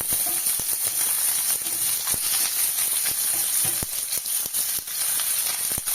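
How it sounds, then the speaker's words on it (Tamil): Mustard seeds and small peeled onions frying in a pan for sambar, a steady sizzle with scattered sharp pops and crackles from the seeds, close and continuous. "அரை ஸ்பூன் கடுகு சேர்த்துக்கலாம் கடுகு பொரியட்டும்"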